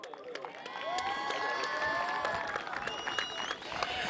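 Audience applause and cheering at a Lahore Qalandars youth program event in Lahore, a dense sustained crowd wash with whistles and shouts rising over it and talk mixed in.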